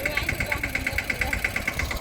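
A tractor's diesel engine idles close by with a fast, regular chugging pulse and a steady mechanical drone.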